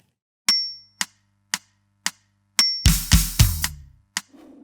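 Drum kit closing bar: crisp sharp hits in even beats, then open hi-hat washes with snare, floor tom and bass drum, ending on a tight closed hi-hat, close and loud.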